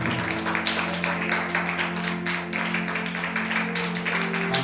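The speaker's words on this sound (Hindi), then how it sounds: "ताली बजा के प्रभु के नाम के गाएं" A Hindi-speaking church congregation in Bathinda, Punjab claps along in a steady beat while singing praise, the rhythmic hand claps cutting through sustained music and voices at a lively, constant level.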